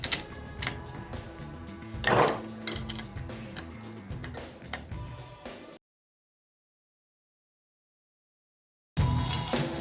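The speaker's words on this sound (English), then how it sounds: "now we'll grab our 16mm wrenches and we'll use them to get these bolts out" 16mm wrenches ratcheting out car suspension bolts, rapid metallic clicking and clanking in bursts, with a sharp knock near the start, then a gap of silence before more turning resumes.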